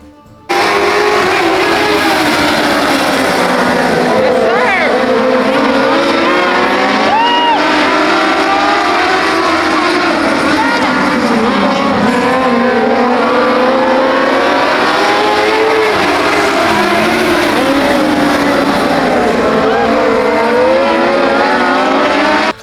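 Several race cars roar around a dirt track during a B main event, engines loud and continuous with rising and falling revs as the pack passes, tires occasionally squealing.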